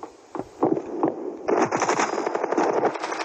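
Rapid automatic gunfire from a machine gun in the mobile shooter Standoff 2, loud bursts of closely spaced shots, first a few separate shots and then a sustained stuttering stream near the listener.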